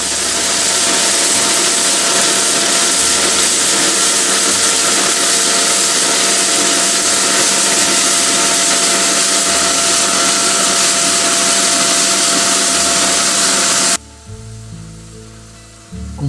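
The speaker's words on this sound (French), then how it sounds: "Construite un peu sur la base d'une balayeuse, elle est munie de brosses rotatives à l'avant, d'un très gros aspirateur et d'un tamis." A hazelnut harvesting machine built like a street sweeper, with rotating front brushes, a very large vacuum and a sieve, runs with a loud, steady roaring hiss for about fourteen seconds before cutting to a much quieter rumble.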